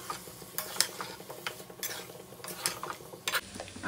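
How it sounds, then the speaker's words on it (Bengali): Raw mango pickle being stirred with spices in a pan on the stove, a spoon scraping and clinking in repeated strokes over a faint sizzle, close and moderately loud, no talking. "আমটা মশলার সাথে ভালো করে কষিয়ে নিয়ে"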